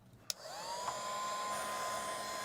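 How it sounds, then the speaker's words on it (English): Hair dryer blowing steadily to dry a wet watercolor sky layer in a kids' mountain sunset painting, a continuous whirring hiss that starts after a sharp click and holds level to the end. "let's dry this layer. You all finished? I guess. Do you want to operate the dryer?"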